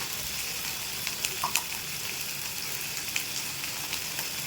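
Ground turmeric, chilli, coriander and cumin fry in hot oil for a small-fish curry, giving a steady close sizzle with a few soft stirring clicks and taps.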